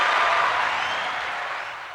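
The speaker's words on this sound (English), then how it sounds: "Round of applause for St. Mary, man." A round of applause on a podcast, a dense hiss of clapping at steady volume that slowly fades over two seconds before cutting off with a sharp knock.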